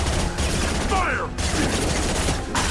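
Gunfire rattles in Mass Effect 2 in dense, loud bursts, broken by two short gaps. A shouted voice is heard partway through.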